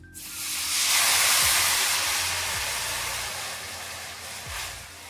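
Water poured into a hot pan of spices with turmeric and chilli powder for Latur-style bhaji curry, bursting into a loud, rushing sizzle that hisses steadily for several seconds before slowly easing.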